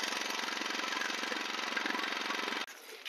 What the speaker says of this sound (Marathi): मित्रांनो मोटर आपली चालू केली